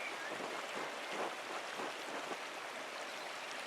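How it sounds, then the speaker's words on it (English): A waterfall in the video game Pentiment makes a continuous, even rushing roar of broadband noise, steady and moderately loud throughout, with no voices. "Waterfall's too loud."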